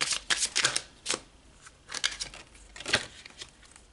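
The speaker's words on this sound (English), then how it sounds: "let's pull some more cards" Tarot cards being shuffled and drawn from the deck: crisp, rapid riffling bursts and papery slides, close to the microphone, in several quick flurries with no talking.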